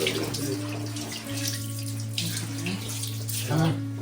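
Tap water runs steadily while something is rinsed outdoors during preparations for a popti cookout with friends, a continuous close hiss under a low hum, with people talking in the background.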